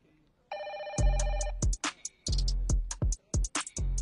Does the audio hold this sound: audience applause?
no